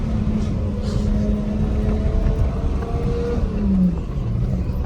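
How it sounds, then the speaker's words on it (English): A car engine idles and revs on a low driveway, a loud close rumble with a brief rising rev near the end, heard without talk. "but the car sounds really good"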